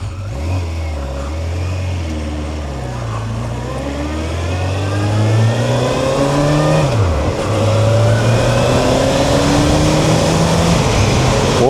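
A Suzuki GSX1400 motorcycle engine rises and falls in pitch as it pulls away and accelerates through the gears on a ride, loud and close with steady wind and road noise.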